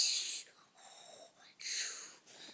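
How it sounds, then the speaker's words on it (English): Snoring from someone asleep: rough, breathy rasps that come in slow, repeated waves, fairly close and clear, with no talking over them. "Wow, that's some serious snoring."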